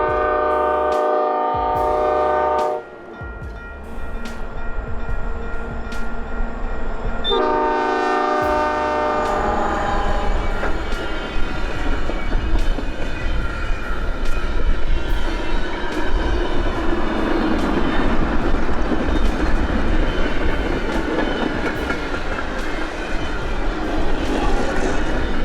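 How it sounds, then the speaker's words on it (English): Two EMD SD40-2 locomotives haul a short Canadian Pacific freight through snow, opening with long loud horn blasts, then a steady rumble of engines and rolling cars passing close by. "2 Iowa, Chicago, and Eastern EMD SD 402 units hauled Canadian Pacific's short train 272 east along the Chicago route"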